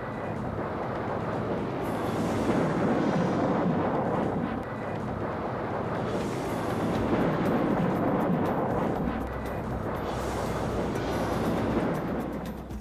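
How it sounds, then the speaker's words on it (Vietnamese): Carrier-launched rockets roar overhead amid heavy shelling in a Second World War battle at Peleliu, a loud continuous rumbling din that swells and recedes in broad waves over about thirteen seconds, with no voices. "tiếng gầm của hỏa tiễn từ hàng không mẫu hạm rít qua đầu để bắn dọn đường"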